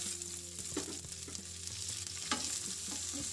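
Chopped green chillies and grated ginger fry in hot oil for a green chilli sabzi, a steady close sizzle broken by several scraping stirs of a spoon against the pan.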